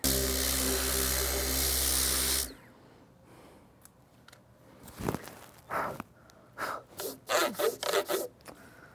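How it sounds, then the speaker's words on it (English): Sander working over grooves on wooden furniture being flattened, heard after a loud steady machine drone cuts off, as a series of short rasping bursts that grow denser toward the end. "grooves with the sander"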